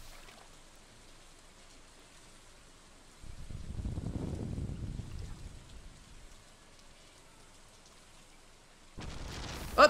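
A rumble of thunder rolls through steady rain during a storm in the video game Stardew Valley, swelling to a broad low boom mid-clip and then fading back under the rainfall.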